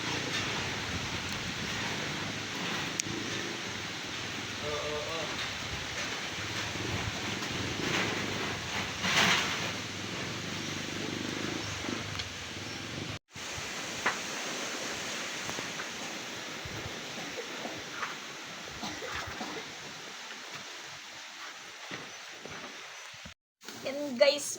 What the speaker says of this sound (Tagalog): Maingay yung hangin.